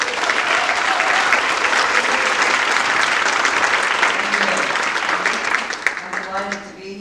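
Sustained audience applause at a Portland State University summit's opening session, steady and loud for most of seven seconds before thinning out, with a voice starting to speak as the clapping fades.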